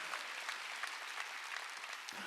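A church congregation claps together during a Sunday worship service, a dense, steady patter of many hands heard faintly and from a distance for about two seconds.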